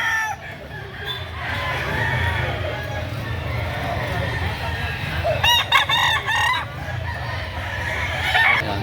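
Chickens and roosters at a busy Saturday poultry market in Lipa, Batangas, with repeated nearby crowing and clucking over a constant crowd hubbub, while people talk close by.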